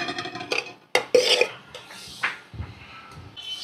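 Rice being served onto plates at a home meal, with a few sharp clinks of dishes and utensils followed by scraping and rustling, close by and moderately loud with no talking.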